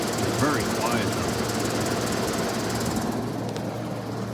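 Vintage GM Frigidaire 18,700 BTU room air conditioner running outdoors, a steady mechanical hum and rattling drone with a low tonal buzz, continuous and fairly close, while someone talks over it.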